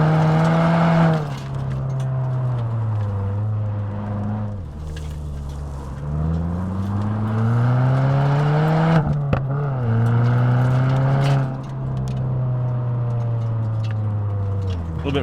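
A Subaru WRX engine revs and falls in pitch through downshifts on a spirited sunset drive, a steady close drone rising and dropping in waves, with brief speech over it.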